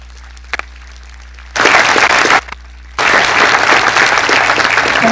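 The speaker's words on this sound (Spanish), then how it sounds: "Les pedimos un muy caluroso aplauso" Warm applause at an engineers' association induction ceremony in Lima: two loud bursts of clapping from the audience, the first short and the second sustained, separated by a quiet pause.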